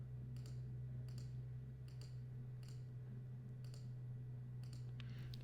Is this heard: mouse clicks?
yes